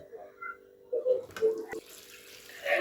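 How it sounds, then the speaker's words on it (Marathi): Homemade butter is washed by hand in a vessel of clean water, giving soft splashing and sloshing in short bursts, close and fairly quiet. "स्वच्छ पाणी निघेपर्यंत आपल्याला हे लोणी धुत राहायचं आहे"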